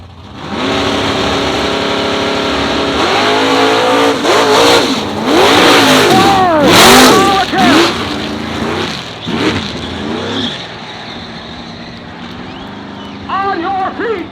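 A C10 pickup truck's engine roars and revs hard during a drag-strip wheel stand, rising and falling in loud sweeping pitches under an excited announcer and cheering crowd, then easing off before a final burst of revving.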